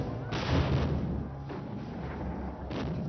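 Small cannons fire in a battle scene at a fortress wall during Tipu Sultan's era, with repeated heavy booming blasts that rumble loudly and overlap for a sustained barrage.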